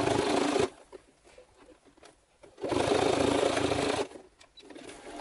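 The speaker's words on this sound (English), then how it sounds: "My machine does not like sewing through multiple layers of leather" A home sewing machine strains as it stitches through multiple layers of leather for gauntlet gloves, running in two loud whirring bursts separated by a quieter pause with faint mechanical ticking.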